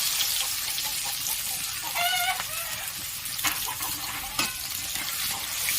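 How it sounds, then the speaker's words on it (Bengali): Chopped onions frying in oil with cinnamon and cardamom for a katla fish kalia, a soft continuous sizzle with a few brief squeaky chirps and light stirring clicks. "একটু লাল লাল করে ভেজে নিতে হবে"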